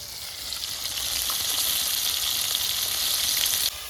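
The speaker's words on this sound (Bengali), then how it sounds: "প্রথমে 4 পিস মাছ ভেজে নেব" Four pieces of fish frying in a pan, giving a continuous close sizzle that builds and holds steady before cutting off, with no talking.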